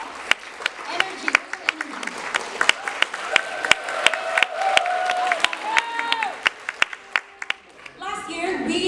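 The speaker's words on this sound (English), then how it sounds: "Let's give everyone a round of applause." An audience at a Filipino cultural gala gives a round of applause, with scattered sharp claps over a crowd murmur and occasional cheers, while a voice speaks over it briefly before it fades.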